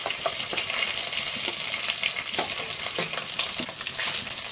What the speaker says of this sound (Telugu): కలుపుతూ కొంతసేపు ఫ్రై చేసుకోవాలి.